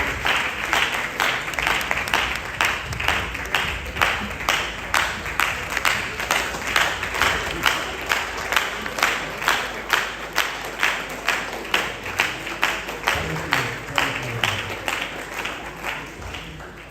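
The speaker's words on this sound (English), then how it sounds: "Ladies and gentlemen, with a lot of applause" Audience applause welcoming a professor to give his presentation at an academic event, a steady wash of clapping with a faint rhythmic pulse running the full length.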